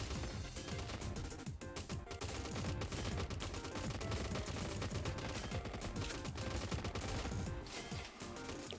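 Dense, continuous video game gunfire, rapid overlapping shots and impacts forming a loud, unbroken barrage throughout.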